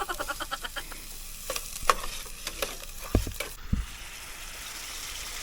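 Corned beef frying in a pan at breakfast, a soft steady sizzle with intermittent scraping and clinks of a utensil stirring, fairly quiet and close, with no talk.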